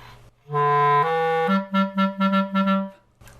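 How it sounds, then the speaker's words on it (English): An A clarinet plays alone, holding a long tone, stepping up, then sounding a quick series of detached repeated notes before stopping. "And then on the A clarinet, it sounds like this."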